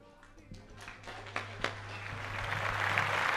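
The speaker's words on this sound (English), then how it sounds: "Round of applause once again." Scattered applause at a quinceañera party in a Houston event hall, a few distinct claps building into a soft, distant wash of clapping over a steady hum.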